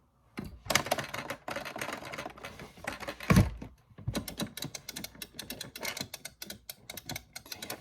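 Rapid plastic button clicks rattle in quick bursts with short pauses between them. They sound loud and close, like hammering on arcade buttons.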